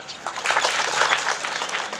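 An outdoor village gathering at a Thai district mobile-service event fills with an audience's dense, continuous clapping. It stays fairly loud and even for the full two seconds.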